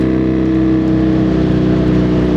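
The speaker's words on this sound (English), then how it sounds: "if you listen to the exhaust, it's more mellow. It's a mellifluous engine note" A steady, loud Triumph Bonneville or Trophy motorcycle engine drones at a constant mellow pitch, a smooth rumbling exhaust note held without revving.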